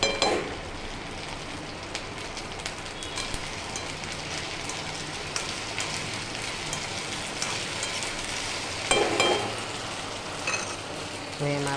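Ginger-garlic paste fries in oil in a pan for an okra curry, a continuous soft sizzle like light rain, with occasional sharper crackles and a brief stir near the end.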